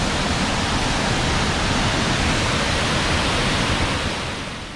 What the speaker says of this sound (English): So that was our first waterfall.